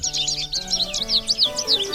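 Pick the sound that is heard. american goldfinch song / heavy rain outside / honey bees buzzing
american goldfinch song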